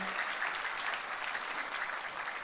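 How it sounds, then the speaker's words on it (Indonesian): Steady, dense applause from a church congregation fills the whole stretch, even and sustained with no pauses, from a large audience at a distance. "Bisa dengar tepuk tangannya yang paling meriah buat Yesus Tuhan kita."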